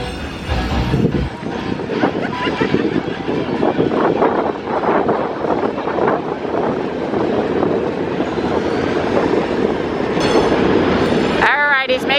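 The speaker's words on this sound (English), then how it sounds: "And the train approves in the background too." A train rolls past outdoors in Fayetteville during an electric-vehicle gathering, a continuous rumbling clatter of rail cars with wind buffeting the microphone and people talking over it.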